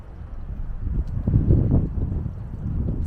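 Wind gusting across an exposed clifftop headland trail above the Bay of Fundy at Economy Point, Nova Scotia, a steady low buffeting rumble with a stronger gust midway, close to the microphone, no talking.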